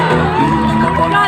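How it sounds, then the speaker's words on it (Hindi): Crowd at a live teachers' event in a Patna auditorium roars with shouts and whoops, a dense, loud wash of cheering voices with harmonic yells over the whole brief moment. "जबरदस्त तालियां"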